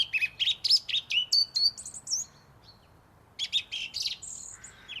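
A song thrush sings nearby in clear, loud phrases of sharp whistled and chirping notes, each repeated several times, with a short pause before more repeated phrases.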